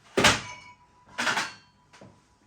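Three dull thumps spaced about a second apart, each a short door-like close of a Philips Perfect Draft beer dispenser with a brief ringing tail, the last softer than the first two.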